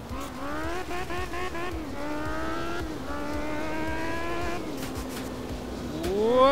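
Rally car from the video game Art of Rally tearing across gravel, its engine revving high and climbing through gear changes with sharp shifts, loud and close, swelling near the end with no talk over it.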